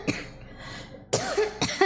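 Three short, harsh coughs from a woman. A single cough opens, then after a pause two more follow close together, all near and fairly loud.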